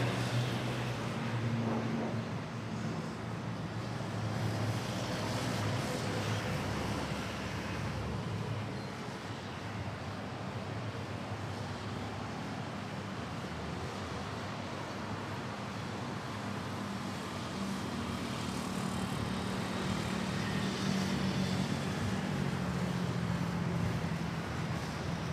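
An ATR 72-600 turboprop taking off at Manila Airport, a steady, broad engine roar heard from a distance that holds for the whole stretch and swells slightly near the end, with no talk over it.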